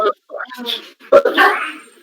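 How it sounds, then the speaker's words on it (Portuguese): Dogs bark and yip loudly right beside a microphone in a meeting room, a few short sharp barks mixed with whimpers, while someone speaks over them. "Tem que dividir agora o microfone com os cachorros."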